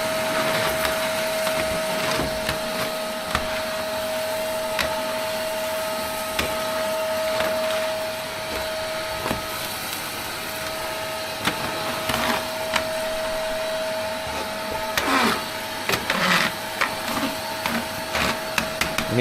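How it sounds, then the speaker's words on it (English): A cheap vacuum cleaner runs steadily with a constant motor whine and broadband hiss, punctuated by irregular clicks and rattles as big leaves and debris get sucked in and knock around; no talking. "Yeah, it is a cheap vacuum cleaner."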